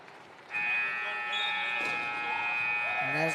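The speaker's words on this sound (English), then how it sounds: "as the final buzzer goes off" A long, loud electronic final buzzer sounds at a high school boys basketball game, a steady tone holding for about three seconds over crowd noise.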